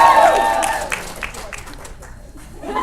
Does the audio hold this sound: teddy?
no